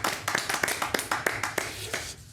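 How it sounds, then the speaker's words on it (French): A small audience at a French quiz show claps for the contestants, a short burst of sparse, uneven handclaps that thins out and stops, with no talk over it. "On peut les applaudir"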